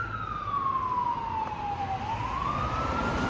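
Ambulance siren on a street in Canada, one long wail sliding down in pitch and then climbing again, moderately distant over a low traffic hum.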